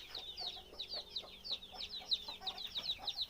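Chickens cluck in a rapid, repeated series of short, close calls, loud and steady with no talk over them.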